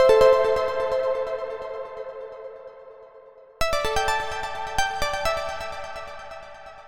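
Unprocessed plucky synth lead, full-bodied and bright, sounding as a fading phrase of rapid repeated notes followed by a second louder phrase with accented hits, played alone.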